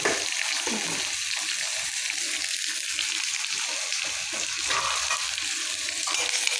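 Okra curry is stirred in a hot pan, producing a continuous frying sizzle with rhythmic scraping strokes from the spoon. The sound is close and steady, with no voices.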